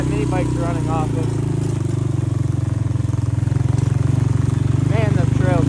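A minibike engine runs close by in a steady, pulsing mid-pitched drone on a rough trail, with voices talking intermittently over it.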